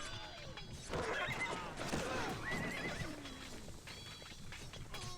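Horses whinny repeatedly while under attack in the strategy game Cossacks: Battle for Europe, with shrill neighs rising over hoof clatter and battle noise. Game sounds stay fairly quiet throughout.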